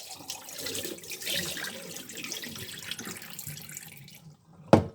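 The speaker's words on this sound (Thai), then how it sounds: "ก็จะล้างเทน้ำออกก่อน" Rinse water sloshes and pours steadily out of a rice cooker pot of sticky rice for several seconds, then stops, followed by a couple of sharp clunks at the end.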